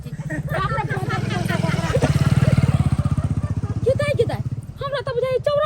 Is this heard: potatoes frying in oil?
no